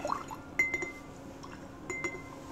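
Water is dripped and dabbed onto an ink comparison tile, giving a few small wet taps and clinks in brief clusters close up.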